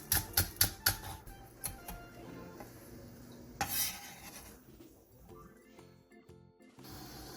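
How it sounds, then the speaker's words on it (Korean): A knife taps quickly on a cutting board as green onion is finely sliced, a burst of crisp, close chops at the start followed by scattered knocks and softer rustling. "대파 조금도 쫑쫑 썰어주세요."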